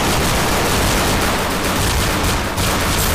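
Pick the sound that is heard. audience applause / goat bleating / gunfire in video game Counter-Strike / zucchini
gunfire in video game Counter-Strike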